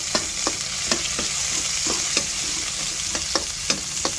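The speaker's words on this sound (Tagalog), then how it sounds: "Nag-gisa na tayo ng bawang. Sibuyas." Garlic and onion sautéing in a pan, a steady close sizzle broken by regular scraping and clacking strokes of a spatula stirring every half second or so.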